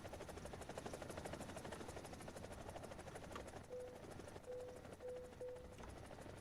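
A helicopter in the War Thunder video game gives a faint, steady rotor thrum, with a few short electronic beeps near the end.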